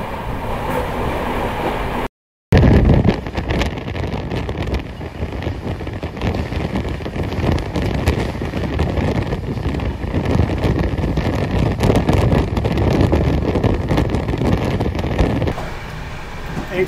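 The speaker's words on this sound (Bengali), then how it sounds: "এই ট্রেনটা কিন্তু মারাত্মক স্পিডে যাচ্ছে।" The Shantiniketan Express races at high speed from Howrah toward Bolpur, a loud continuous rumble and rushing roar heard from inside the coach, with wind buffeting and a sharp dropout near the start.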